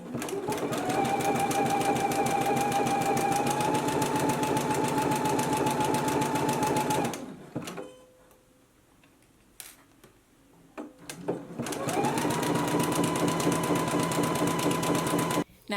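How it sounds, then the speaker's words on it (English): A sewing machine with integrated dual feed runs steadily, stitching knit layers for a loungewear top, with a fast mechanical whir. It pauses for a few seconds of near quiet with small clicks, then starts up again at full speed. "The integrated dual feed, it will keep my knit layers together, perfectly bringing them through as I'm sewing"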